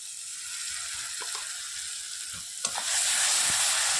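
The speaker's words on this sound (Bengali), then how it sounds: "ভালোভাবে লঙ্কাটাকে কষিয়ে নেব" Chilli paste frying in hot oil with onion and garlic, a soft steady sizzle with a few stirring scrapes that swells into a louder, fuller hiss toward the end.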